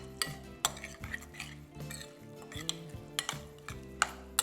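Chimichurri being mixed with olive oil in a bowl, a spoon knocking and scraping against the bowl in irregular clinks and strokes, close and clear with no talking.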